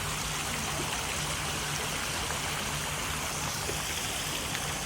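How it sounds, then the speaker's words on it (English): A small illuminated waterfall in Tokyo pours steadily, its continuous rushing splash filling the clip evenly from start to finish with a faint low hum beneath, and no voices. "Got a nice little waterfall going on here."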